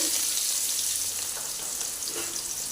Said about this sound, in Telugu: ఇప్పుడు ఇందులో ఉల్లిపాయలు వేస్తున్నాము ఇలా సన్నగా తరిగిన ఉల్లిపాయలు వేయాలండి